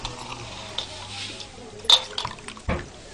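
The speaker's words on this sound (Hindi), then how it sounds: "इस बीज को 2 बार साफ पानी में धोकर फटा कर डाल देंगे।" Seeds being washed in clean water, with soft sloshing and a few splashes and drips that rise at intervals over a quiet background.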